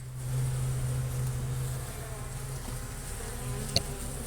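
Honey bees swarm around an opened hive during an inspection, a dense, steady buzzing drone up close, with one brief sharp tap near the end and no talking.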